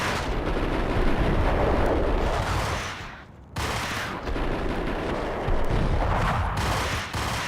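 Loud, sustained gunfire in the video game Max Payne, a dense roar of shots with a brief drop to near silence midway before the barrage resumes just as heavily.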